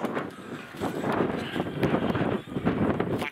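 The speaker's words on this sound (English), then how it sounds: "The wind has blown up." Gusty wind buffets a microphone at a wild camp on Cushat Law, a loud, steady low rumble that swells and dips in waves throughout, with no voices.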